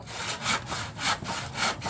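A hand saw cuts through wood on a rooftop during greenhouse assembly, making steady back-and-forth rasping strokes, about three per second, close and alone.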